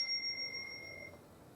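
An old-school bike bell is struck once by a spring-loaded slide striker, giving a single bright ping that rings on and fades alone, followed by a faint click at the end.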